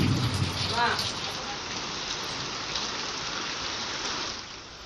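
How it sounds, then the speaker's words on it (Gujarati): Rain falls steadily in eastern Kutch in the afternoon, a continuous broadband hiss of drops on surfaces, fairly close, with a brief voice near the start. "પૂર્વ કચ્છમાં બપોર બાદ વરસાદની એન્ટ્રી થઈ"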